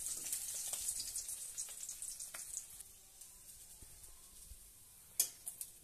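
Pieces of rohu fish frying in hot oil give a soft, steady sizzle with light crackles near the pan, fading somewhat toward the end, then a few sharp pops or taps.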